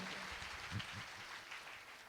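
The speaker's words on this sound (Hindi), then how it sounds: "एक बार जोरदार ताली देंगे।" An audience at a Catholic youth meet in a hall gives a round of applause, a steady, fairly faint patter of many hands heard from a distance for a couple of seconds.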